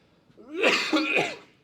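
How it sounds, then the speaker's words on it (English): A lecturer coughs in a classroom during an early morning class, a single harsh, throaty cough burst that rises, breaks briefly, and trails off, close and fairly loud with no talk over it. "Pardon me, I keep coughing."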